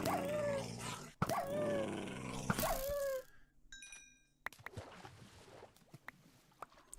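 Tamed dogs in the Minecraft game give loud whining barks and growls for about three seconds, with several repeated calls, followed by quieter clicks and scattered game sounds.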